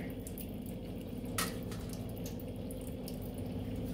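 Oil is poured onto spices for a mango pickle, a quiet, continuous trickling stream with one brief splashy burst partway through, heard alone.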